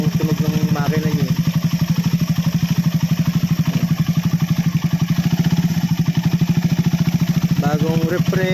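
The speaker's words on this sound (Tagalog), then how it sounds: "Nakatono na yung kanyang tunog ng makina niya." A freshly refreshed motorcycle engine runs steadily at close range with an even, rapid firing pulse and slight clatter throughout, unchanging in speed.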